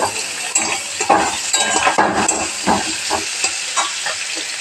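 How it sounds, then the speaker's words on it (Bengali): Garlic paste fries in hot oil with onion, tomato and green chilli while a utensil stirs the pan, giving a loud, steady sizzle with repeated close scraping strokes. "রসুন বাটা দিয়ে দিয়েছি, নাড়তে থাকবো"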